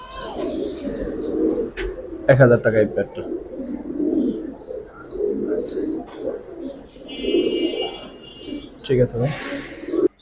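Giribaz pigeons cooing in a pair at a pigeon market, soft repeated low coos and some chirps under steady close conversation between men, with occasional wing flaps.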